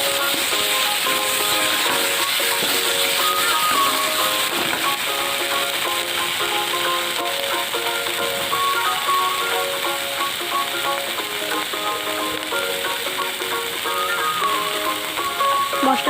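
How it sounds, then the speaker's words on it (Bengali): Spices with salt and turmeric frying in a pan for a green plantain curry, giving a steady sizzle that runs for the whole stretch with faint stirring scrapes and no talk. "এবার মশলাগুলোকে ভাজা ভাজা করে নেব।"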